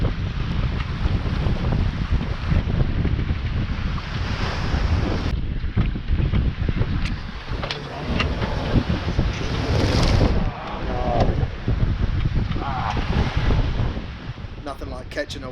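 Wind roars steadily over a sailboat cruising at sea with leftover swell, water rushing and splashing along the hull, loud and close with buffeting gusts throughout.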